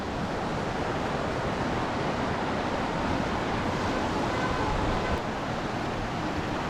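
A river flows close by, a steady, loud broadband rush of water that holds without a break for several seconds. No voices.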